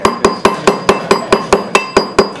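A hammer strikes a coin being shaped into a ring in a steady rhythm of about eleven sharp metallic blows, each ringing briefly, close and loud with no voices.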